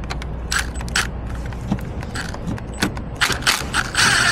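Metallic clicks and ratcheting from a T30 security bit backing screws out of the EGR valve on a Sprinter OM642 3.0L V6 diesel, sharp close taps repeating irregularly over a steady low hum.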